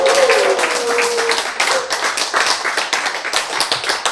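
A lecture audience at a health talk claps hard and fast, a loud, dense burst of many hands sustained throughout, with a brief tone early on.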